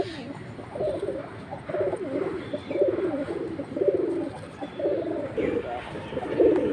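Pigeons of the red and milibar Gorra breeds coo in repeated low throaty phrases, close and steady, with some faint background chatter.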